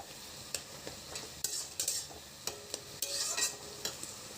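A spoon stirs and mashes food in a sizzling pan, scraping and tapping against the metal in uneven strokes over a steady close frying hiss, with no talk.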